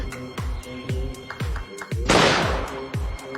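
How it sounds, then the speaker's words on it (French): Sharp gunshot-like cracks repeat at a quick, fairly even pace, each with a short booming tail, and a brief noisy burst lands midway through the series. "Après un coup de feu"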